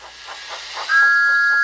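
A steam engine in a Thomas the Tank Engine story gives a loud, steady whistle that rises out of a soft hiss of steam and holds to the end.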